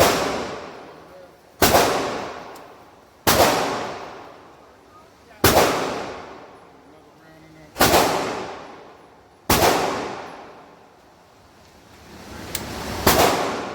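Six loud shots from a Desert Eagle .50 AE pistol crack out at a shooting range, one roughly every two seconds, each sharp blast followed by a short fading ring.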